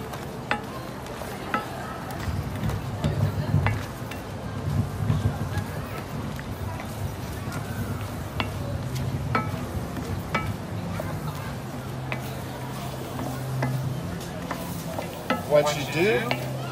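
Bread gets stirred into a simmering peach, raisin and cream mixture in a skillet, giving soft wet scraping and squelching over a low bubbling sizzle, close and irregular, with the cook talking intermittently.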